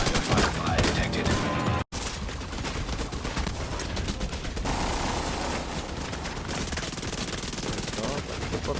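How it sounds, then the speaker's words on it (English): Heavy video game gunfire from a shooter with hives, seeker mines and drones hammers away almost without pause, rapid automatic bursts overlapping in a loud, busy firefight, with a voice briefly heard in the mix. "I'm getting shot like crazy while these currents going down"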